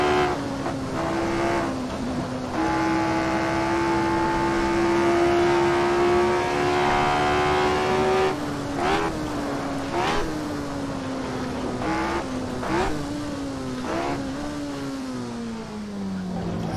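A prototype race car in the Assetto Corsa video game drones loudly throughout, its engine note climbing steadily through long pulls and dropping with each gear change, repeated revving and shifting close up.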